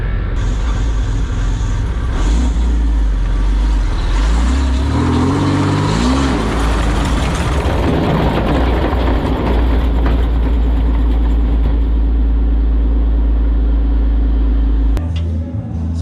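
A 1997 Toyota Tacoma with a failed driveshaft center support bearing, running with a steady loud low rumble and engine drone that rises briefly mid-way, then drops off near the end.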